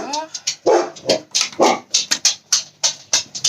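Pet dogs barking indoors in a rapid series of sharp, close yaps and higher yips, loud and insistent, with a voice in the background.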